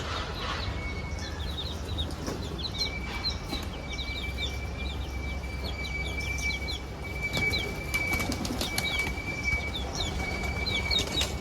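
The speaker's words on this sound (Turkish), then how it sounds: "Harbiden kuşları dövüyorlar ha." Repeated bursts of wing flapping from pigeons fighting close by, over steady outdoor background noise with faint chirps.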